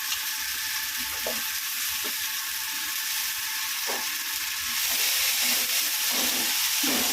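Onions and tomatoes for a pumpkin curry fry in a pan with a steady, close hiss, broken by a few soft stirring knocks.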